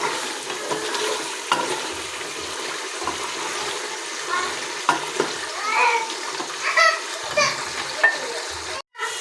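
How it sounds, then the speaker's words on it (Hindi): Afghan namkeen rosh, salted meat, frying and being stirred in a pot, with a steady sizzle and scraping that runs throughout at close range, moderately loud. "इसे हम 2 से 3 मिनट तक अच्छे से भूनेंगे।"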